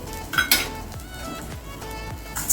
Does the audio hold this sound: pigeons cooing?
no